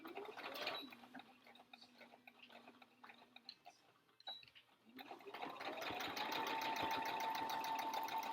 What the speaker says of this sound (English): I'm going to go through now and I'm going to just sew the same looking thing